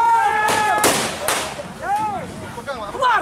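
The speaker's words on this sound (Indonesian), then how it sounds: "Ratusan massa yang merangsek terpaksa dibubarkan polisi dengan tembakan gas air mata." Several sharp, loud bangs of police tear gas shots crack in quick succession amid a noisy crowd being dispersed, with whistling, warbling tones between them.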